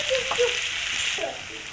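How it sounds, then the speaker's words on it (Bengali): Tomato and green chilli paste frying in a pan with cumin powder, giving a steady, close sizzle that runs unbroken throughout with no talking. "টমেটো আর কাঁচা লঙ্কা পেস্টটা ভাজা হয়ে গেছে। এবার দিয়ে দেবো জিরের গুঁড়ো"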